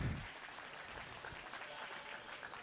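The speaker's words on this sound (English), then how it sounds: "Big round of applause." An audience applauds the youth goat show champions at the 2025 Gillespie County Youth Livestock Show with a brief, faint, steady patter of clapping heard from a distance.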